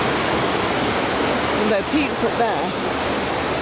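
Water rushes steadily into a narrowboat canal lock, a loud continuous roar filling the whole clip while someone speaks briefly over it.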